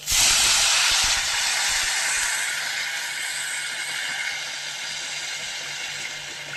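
Water hits a hot pan while cooking dal, a loud burst of hissing steam that slowly fades into a softer, lingering sizzle.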